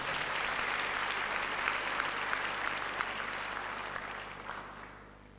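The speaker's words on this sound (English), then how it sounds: "Can we give him a round of applause?" A crowd at an awards ceremony applauds a young praise singer, a steady wash of many hands clapping that fades down toward the end.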